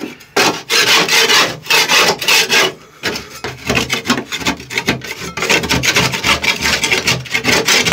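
Rust is scraped and pulled up from a vehicle's floor, loud close rasping strokes in repeated bursts, rough and irregular, with no talk.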